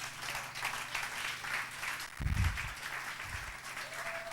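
A church congregation breaks into sustained applause and clapping to acclaim the word of the Lord, a steady patter of many hands with a low thump partway through.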